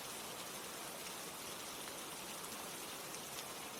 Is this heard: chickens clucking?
no